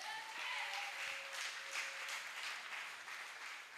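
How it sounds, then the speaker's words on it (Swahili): Church congregation applauding after a sermon, a steady, moderately distant wash of clapping sustained throughout, with faint voices mixed in. "Mpigie makofi mazuri."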